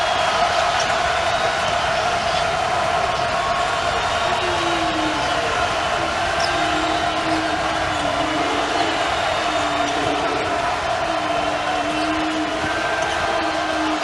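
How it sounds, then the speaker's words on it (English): A crowd at a college basketball game between Marquette and Cincinnati gives a sustained roar of cheering, loud and constant throughout, with a voice talking over the din. "Here comes the crowd"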